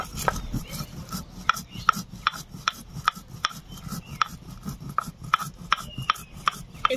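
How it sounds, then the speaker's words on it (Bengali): Cumin and coriander being ground into paste by hand on a stone in a village kitchen, a steady rhythmic rasping and rubbing with repeated sharp scraping strokes, close and moderately loud, with no talking. "এখন জিরে আর ধনিয়া বেটে নেব।"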